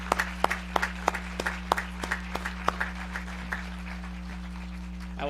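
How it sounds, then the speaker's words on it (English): Applause at the Washington and Lee School of Law 2021 commencement ceremony: sparse, distinct hand claps from a small group, fairly close, steady over a constant low electrical hum, with no talk. "Please join me in a round of applause for these individuals."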